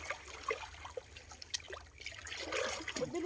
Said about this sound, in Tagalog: Mabilis lang ang agos.